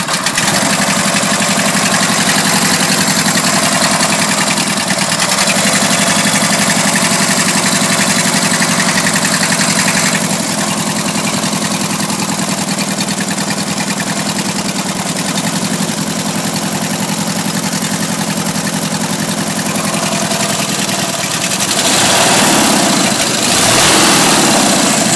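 An engine runs at a steady idle, loud and close, with a constant rumble and knocking texture throughout that swells slightly near the end.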